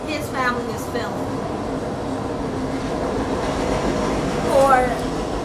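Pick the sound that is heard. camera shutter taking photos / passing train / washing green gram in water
passing train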